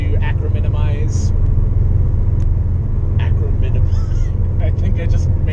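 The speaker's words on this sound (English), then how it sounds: "there is more noise and vibration and harshness in the car" Cabin drone inside a Subaru WRX STI fitted with stiff engine, transmission and pitch stop mounts: a steady low engine rumble and road vibration, with a person talking over it throughout.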